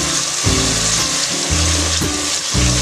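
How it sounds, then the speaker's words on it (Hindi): Onions and tomatoes fry in oil for a mutton curry, giving a loud, steady sizzle with low, intermittent clatter from stirring. "देखिए प्याज टमाटर को अच्छे से भूनना है तेल में इस प्रकार से।"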